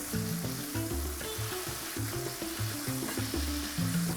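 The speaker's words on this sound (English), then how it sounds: "So you bring the pan super high, super hot, a little bit of olive oil, immediately the burgers in." Thin Big Mac burger patties sizzle and fry in a little olive oil in a very hot pan, a steady close crackle with occasional stirring, no voices.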